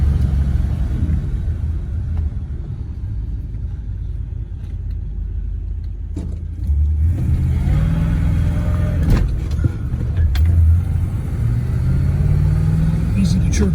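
A 1967 Pontiac GTO accelerates hard on wet pavement, its engine rumbling low and then rising into a loud rev partway through, with someone speaking over the car.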